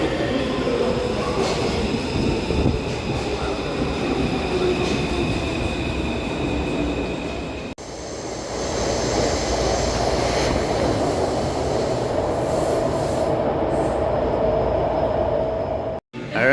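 Metro train in a Taipei subway station, a steady loud rumble of wheels and motors with hiss and faint squeal, a brief break around the middle and a drop near the end, no talk.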